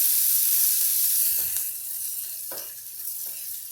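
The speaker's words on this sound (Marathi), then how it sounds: "आता आपण काय करतो याला जरा परतून घेऊया" Chili thecha sautéing in a pan over lowered gas, a steady bright sizzle with a few scraping stirs of a spoon, close and alone without talk.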